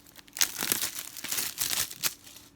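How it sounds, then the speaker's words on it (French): Crinkly plastic wrap being peeled and torn off a film package for Alita: Battle Angel, in bursts of close, crackling rustles with short pauses between them. "Je vais commencer par le déballer."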